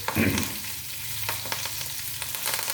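Tempering of urad dal and curry leaves in hot oil: a loud burst of spattering crackle at the start, then a steady close sizzle with a few sharp pops and spoon taps, and no voices.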